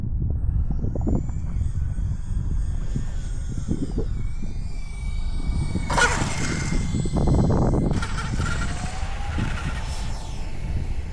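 An Xfly F22 Raptor twin 40mm EDF RC jet comes in for a crosswind landing on its maiden flight, its steady ducted-fan whine and rushing air rising and falling in pitch over constant outdoor wind noise.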